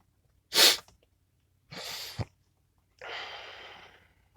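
A sharp, stifled sneeze, followed by a muffled snort and a long exhaled breath, close and quiet with silence between.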